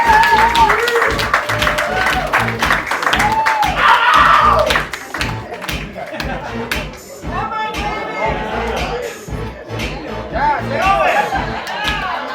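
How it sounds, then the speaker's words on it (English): An audience at a comedy set applauds and cheers for comedian Ryan Csorba, with a loud wash of clapping and crowd chatter that thins out, while a host speaks over it on a microphone. "Y'all please clap it up, clap it up, clap it up"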